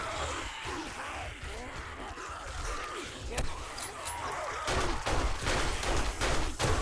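Bursts of gunfire crack through a horde fight in 7 Days to Die, scattered shots at first, then sharper, louder reports in a quicker rhythm toward the end, with a voice talking beneath.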